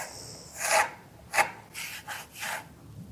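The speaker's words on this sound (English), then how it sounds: "we're just tracing their comb pattern onto our board." Pencil lead scratches across a wooden board while a comb pattern is traced, a few short rasping strokes alone in a quiet room.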